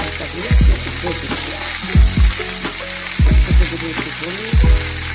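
Onions being stirred as they fry in a pan, a steady sizzle with repeated low knocks of a spoon against the pan in short bursts, and a person talking over it.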